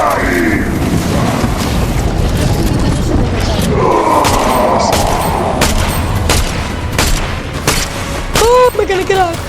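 Gunfire in the video game Fortnite: repeated loud shots and booms, some in quick bursts, sounding over continuous excited talk between players.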